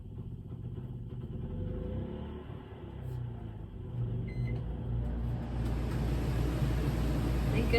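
A steady, fairly loud air conditioner hum with low droning tones and broadband whoosh, continuous throughout, rising slightly in intensity toward the end.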